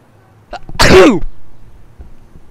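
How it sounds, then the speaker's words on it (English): A single loud, explosive human sneeze bursts out after a brief intake of breath, closing a strategy game match commentary; it is heard alone, with nothing but quiet background afterward. "that's the official endgame sneeze"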